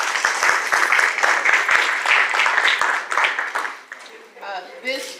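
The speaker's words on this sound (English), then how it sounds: "Let's give these candidates a round of applause" Audience applause for Dallas City Council District 3 candidates at a community forum, a dense sustained clapping crowd that thins and fades after about four seconds as a voice begins to speak.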